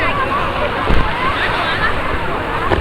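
Water sloshing and washing against the rocky shore on the right side of Shek O, a steady broad wash with small splashes, heard alongside a breezy outdoor background.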